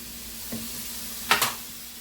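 Soy sauce stirs into the cashew chicken in a hot pan, giving a soft continuous sizzle with a faint scrape and two quick louder spatters near the end. It stays close, and no one speaks.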